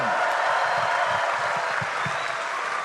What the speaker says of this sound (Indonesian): Boleh tepuk tangan lagi yang meriah buat Mas Gibran.